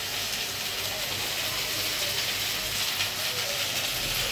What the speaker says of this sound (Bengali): এই যে করলা ভাজিগুলো প্রায় হয়ে এসেছে, আর একটু পরেই নামিয়ে নিব।